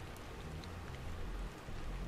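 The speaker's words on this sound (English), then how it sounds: "This must be Earth's rain." Steady rain falls across a vast ruined city in the Stellar Blade video game on PS5, a continuous, even hiss of downpour with a low rumble underneath and no voices.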